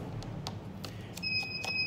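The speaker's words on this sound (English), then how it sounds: "There's that beep I was talking about." A MacBook emits a steady electronic beep during a Flexgate display repair. The sustained tone starts partway in and holds to the end over faint clicks and handling noise.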